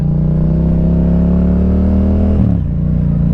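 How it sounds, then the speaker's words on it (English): A loud Yamaha MT-07 motorcycle with a Yoshimura exhaust rumbles close by at night with a deep, throaty exhaust note, the pitch dropping sharply as the rider shifts down. "I love the Yoshi exhaust."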